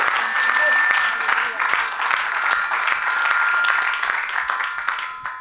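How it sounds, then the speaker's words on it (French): Church congregation applauding together, a dense steady wash of clapping from a crowd filling the space throughout, with voices calling out over it. "Acclame pour Dieu."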